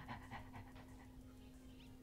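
A dog in the video game Undertale pants when it is petted, giving a quick, rhythmic run of soft breathy puffs over a steady low electronic hum that fades to a quieter hiss.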